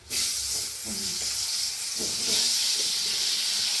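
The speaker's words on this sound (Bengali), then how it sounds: "এখন এই তেলেতেই আলুটা দিয়ে দিব" Potatoes dropped into hot spiced oil hiss and sizzle loudly and steadily, the frying noise starting abruptly and holding at an even level throughout.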